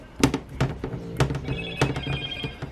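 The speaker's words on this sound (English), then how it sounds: "No, there goes the cell phone." A cell phone rings in a workshop where 727 and 46RE transmission planetaries are being assembled: repeated bursts of an electronic ringtone close by, heard alone over a faint hum with some clatter.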